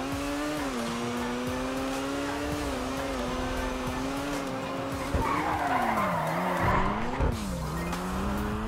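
A Koenigsegg One:1 in GTA 5 spins through a full 360 degrees, its tires squealing in a long, loud, continuous skid over a steady, wavering engine drone.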